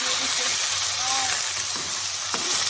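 Onions browning in a pan, a loud continuous sizzle and hiss heard up close, with faint voices and a few soft knocks from the cooking underneath.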